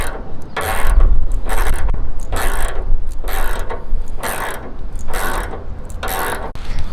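A ratchet wrench tightening a coil-over nut on a 1964 Nova SS, about ten regular bursts of quick metallic clicking, loud and close, with no talking.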